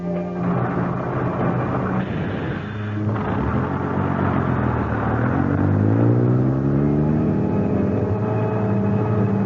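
Bus engine droning on the road as a radio drama sound effect, a continuous loud low rumble with a rising whir as it accelerates through gears, steady and alone without voices.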